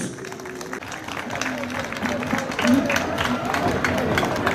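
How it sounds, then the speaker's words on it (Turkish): Audience applause at an outdoor neighbourhood gathering, clapping swelling as someone is welcomed on stage, with crowd murmur and voices mixed in. "Sayın Sümran Ünal hanımefendiyi alkışlarla sahneye davet ediyoruz"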